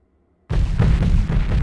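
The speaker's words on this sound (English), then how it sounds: "I've got a grenade each for you guys." A grenade explosion in the video game Delta Force 2 erupts suddenly after a half second of silence, with a loud, sustained deep boom and rumble that fills the rest of the clip.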